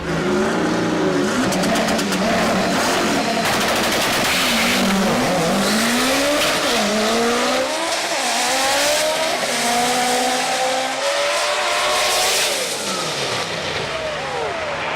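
A 1991 Toyota MR2 Turbo SW20 with a K swap races a GM stick shift car. Engines rev hard and shift through gears in a loud, continuous run with a hint of tire noise.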